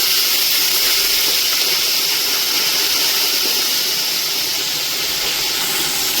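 Green chillies, curry leaves and coriander sizzle in hot oil in a pan while cooking a fish curry, giving a loud, steady, close frying hiss that runs without a break.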